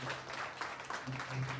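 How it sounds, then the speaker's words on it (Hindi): Audience applause inside a church during a Hindi-language service, a steady continuous wash of clapping over a low hum, moderately loud and close throughout. "ताली बजा देंगे जोर से।"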